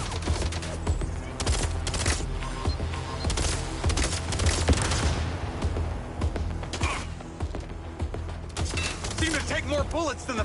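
Heavy sustained gunfire from combat against robots in the video game Mindseye: dense, continuous rattling shots layered under a loud music-and-effects mix.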